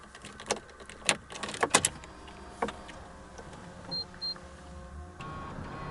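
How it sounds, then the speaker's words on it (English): A 2011 Ferrari 599 GTO wakes its electronics with the key in: a cluster of sharp clicks and relay snaps, a brief whirring actuator, then two short electronic beeps over a quiet hum. "All the different noises as the car turns on."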